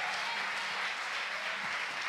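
A church audience claps steadily and continuously for a couple in a dense, even wash of applause, with no speech heard.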